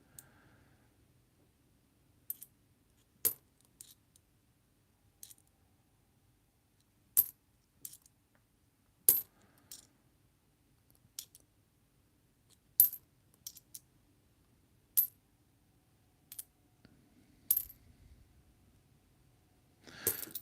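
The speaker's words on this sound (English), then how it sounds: "I'm just trying to sort the 2 cent coins from the 1 cent coins in my hand" Australian 1 and 2 cent coins clink sharply as they are sorted by hand, in a scattered run of separate metallic taps and small jingles, close and crisp over near silence.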